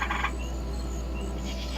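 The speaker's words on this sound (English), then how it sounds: "it also triggered a response from my male eastern gray tree frog, Esperanza." A male eastern gray tree frog kept as a pet gives two short, faint trilling bursts, one at the start and one near the end, with quiet background hum between them.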